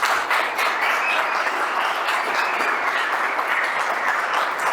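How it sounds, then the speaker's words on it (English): Conference audience applause, a continuous wash of many hands clapping at an even, fairly loud level for the whole stretch without letting up. "Big applause for him."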